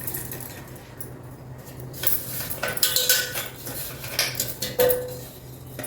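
Dishes and cutlery clank loudly while ground coconut mixture is scraped into a bowl for flaxseed laddu, with irregular metallic knocks and scraping in the second half after a quieter start.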